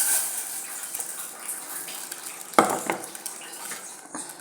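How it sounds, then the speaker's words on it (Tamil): A spoon scrapes and clinks against a pot while ground rice and coconut are stirred into boiling water for payasam, with soft bubbling, one sharp knock near the middle and a few lighter taps, close and moderately loud. "அதை போட்டு நல்லா கலரிடணும்"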